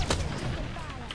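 A quick burst of gunfire in Apex Legends, a couple of sharp cracks up front, then a steady noisy rumble of battle continuing underneath.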